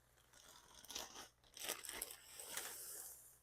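Cornflakes being crushed inside a Ziploc bag, a series of close, dry crunching and crinkling bursts in small batches, with no talking.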